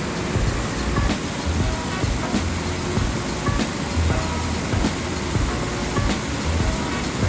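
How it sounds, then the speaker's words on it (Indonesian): Continuous rushing water roars steadily, broad and even, from a nearby waterfall at Curug Ciherang in Bogor, Indonesia, with no voices. "Mari menikmati bunyi air terjun."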